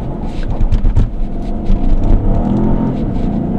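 Peugeot 5008 1.2 Hybrid with e-DCS6 gearbox accelerating hard from a standstill up a wet hill, a loud, steady engine drone with surging revs and tyre rumble heard from inside the cabin, without talk.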